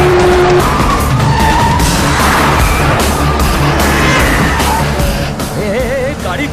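A car is driven hard and fast in a dubbed action film chase, engine roaring loudly with tires skidding and squealing, alongside shouting and crash-like impacts, filling the scene continuously.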